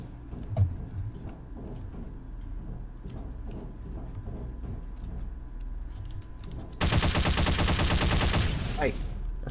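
Rapid automatic gunfire in a Garry's Mod Five Nights at Freddy's game, a sparse run of light shots and clicks giving way to a loud, dense burst for a couple of seconds near the end.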